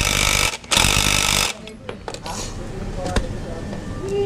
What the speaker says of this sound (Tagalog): Inigpitan ko lang yung tornillo, yung 24mm dito sa ehe.